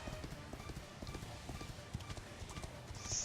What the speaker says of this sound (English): This time we take our own horsey horse.